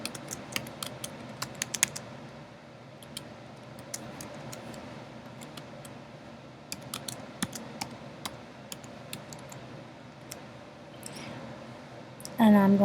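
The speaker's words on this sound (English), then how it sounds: "then I'm going to type in the date" Keys tapped on a computer keyboard while formatting a newsletter, light irregular clicks spread across the stretch with quiet background and a louder thump at the end; a voice talks throughout.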